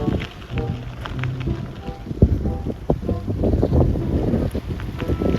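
Strong wind at Smoky Lake, Alberta, buffets the microphone in gusty roaring bursts with thumps and rustles, loud and continuous, while a voice speaks faintly underneath.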